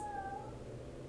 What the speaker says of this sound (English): background noise, specifically meowing